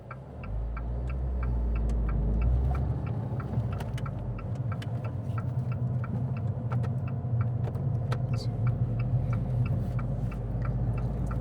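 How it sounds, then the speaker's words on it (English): A car's turn indicator ticking steadily and evenly inside the cabin, faint clicks over the low rumble of the engine and road, with no talking. "Oh, there's that indicator thing again."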